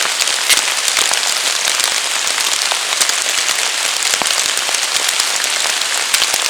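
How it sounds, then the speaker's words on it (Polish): Rain falls steadily in a forest as a dense, loud hiss of drops with scattered sharper patters striking nearby surfaces, continuous and with no voices. "Może przestanie trochę padać."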